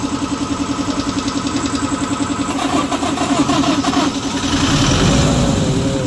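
A Toyota Innova engine runs after its fuel filter and EGR servicing, a steady mid-pitched idle with a rhythmic pulse throughout, rising slightly in intensity toward the end, close and loud with no talk.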